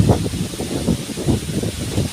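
Tree leaves and branches thrashing in a storm wind, loud continuous rustling and gusting roar in irregular bursts, no talk.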